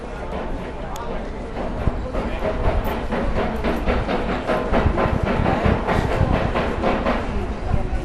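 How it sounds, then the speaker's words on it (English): A passenger train pulls into a station in northern Italy with a rhythmic wheel clatter and a steady rumble that builds slightly as it nears. "is coming the train that's going to take me home"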